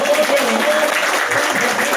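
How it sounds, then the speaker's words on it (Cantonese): Warm applause from the gathered members at a Heisei association celebration in 2025, honoring Brother Leung: continuous, fairly loud massed clapping that holds evenly throughout. "我哋再次俾阿梁哥一啲熱烈嘅掌聲"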